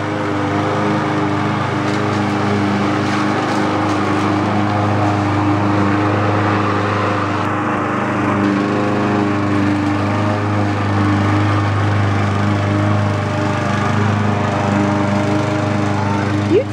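Steady droning of lawn mower engines running continuously nearby, a loud low hum with a strong mechanical whine throughout.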